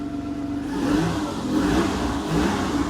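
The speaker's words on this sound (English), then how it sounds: "The engine sounds decent today." A Citroen XM 3.0 24V engine revving, its mid-pitched hum swelling repeatedly and then dropping back, heard close and steady without voices.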